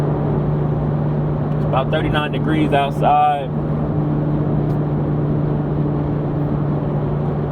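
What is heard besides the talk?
Toyota GR Supra exhaust while driving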